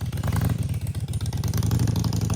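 A fuel-injected Harley Sportster chopper motorcycle engine runs steadily and close, with a deep, loud, pulsing idle and a rhythmic mechanical clatter throughout.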